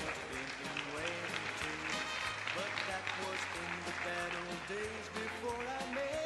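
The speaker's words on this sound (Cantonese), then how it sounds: "請大家俾掌聲兩位同學。" An audience applauds at a school closing ceremony for upper-grade students, a dense, steady patter of clapping that runs for several seconds with voices heard beneath it.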